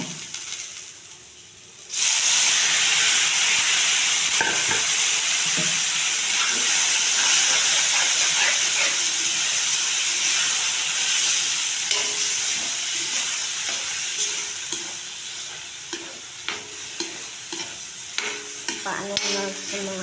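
Ground meat (giniling) stirred and frying in a pan, with a loud, steady sizzle and hiss that starts abruptly and carries throughout, broken by occasional scraping stirs and light utensil clicks toward the end.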